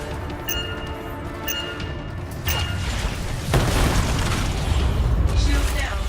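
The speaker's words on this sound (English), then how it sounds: "I think the explosion destabilized the foundry" Detonated explosives go off in the video game Anthem as a deep, rumbling boom that swells and keeps roaring over several seconds, loud and close, with mechanical clanks and a bell-like tone mixed in.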